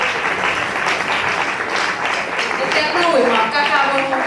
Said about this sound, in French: On applaudit Michael, s'il vous plaît